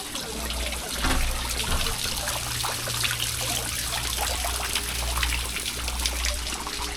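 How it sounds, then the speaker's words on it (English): A street water feature in Milan trickles and splashes steadily and close by, its constant wash of water mixed with a low rumble of city traffic. "Nice water feature out the front."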